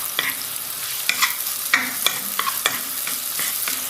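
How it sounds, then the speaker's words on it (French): Mushrooms sweating in a pan for a mushroom sauce with parsley and cream, a bright continuous sizzle with regular scraping stirs from a utensil every half second or so, close and wordless. "on va faire suer comme les oignons"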